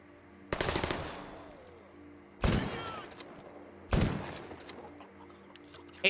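A shotgun fires in a video game: three loud, separate blasts spaced about one and a half seconds apart, each with a brief decaying tail, followed by the start of a fourth.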